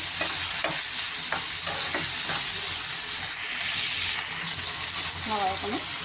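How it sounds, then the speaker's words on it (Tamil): Tomatoes sizzle and fry steadily in a hot pan, with occasional scraping of a spoon stirring, no talking. "நல்லா வதக்கணும்"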